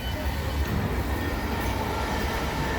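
A London Underground train at Upton Park Station makes a steady, loud rumble and rolling wheel noise that runs unbroken throughout, with no speech over it.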